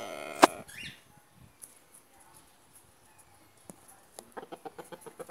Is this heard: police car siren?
no